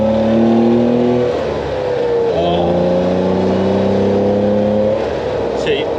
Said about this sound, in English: that engine sounds cracking in the back as well.